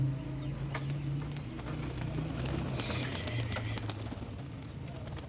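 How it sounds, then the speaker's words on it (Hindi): A flock of racing pigeons released outdoors takes off together, a steady wash of wingbeats and scattered coos lasting throughout, with some talk underneath. "बाहर आला अपने कबूतर उड़ा देते हैं।"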